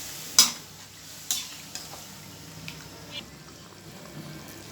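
Beef being sautéed with hot water in a pot for a beef khichuri, with a few sharp spoon scrapes and knocks over a faint, steady simmer, fairly quiet and without talk.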